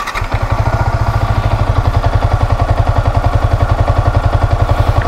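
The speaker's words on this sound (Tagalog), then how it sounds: "Parang may tok sound. Ang reason niyan is yung kanyang clutch damper." A Yamaha MT-15 motorcycle idling with a knocking clutch damper, a steady rapid mechanical tok-tok clatter riding on the engine's even low thrum, close and loud without talk.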